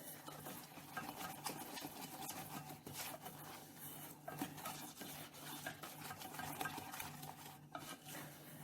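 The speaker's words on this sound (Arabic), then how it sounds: "هقلب كويس لغاية لما كل الخليط يمتزج" A spoon stirs a chocolate biscuit cake mixture in a bowl, quiet irregular scraping and soft clinks repeating for several seconds in a home kitchen, with no talking.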